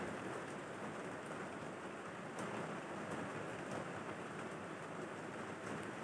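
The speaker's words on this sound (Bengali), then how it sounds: "আমি বেগুনগুলোকে কেমন লালচে লালচে করে ভেজে নিচ্ছি" Eggplant pieces fry in hot oil for a Bengali eggplant and hilsa dish, giving a steady, dense sizzle like close rain that continues without a break.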